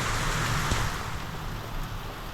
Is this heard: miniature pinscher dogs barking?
no